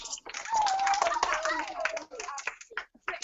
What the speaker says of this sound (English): Why don't you give him a round of applause?